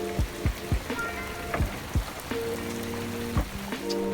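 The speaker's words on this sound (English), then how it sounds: "which meant strong downpours a daily part of life" Heavy tropical rain pours down on the edge of a Borneo rainforest, a dense close hiss of drops on surfaces, broken by repeated irregular thumps and drips.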